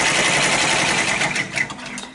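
A domestic embroidery machine stitches out an appliqué design, giving a steady, fast, close mechanical whir of needle strokes that runs continuously and loud throughout, with slight fluctuations near the end.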